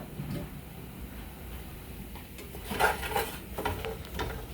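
Spoon scraping and knocking in a pot of kielbasa and tortellini over low heat, with soft clinks and rattles of utensil against metal, close and moderately quiet.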